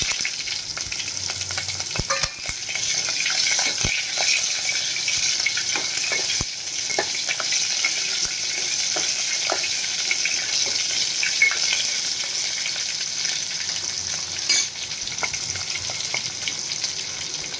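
Green chillies sizzle in hot oil with popping mustard seeds for Kathiyawadi-style rai marcha, a steady close frying hiss scattered with small crackles and occasional soft stirring clicks.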